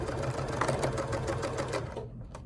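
A sewing machine stitches across a zip pouch made from a placemat, a close, continuous, busy whirring run that eases off near the end, with no voice over it.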